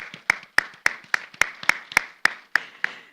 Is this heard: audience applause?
yes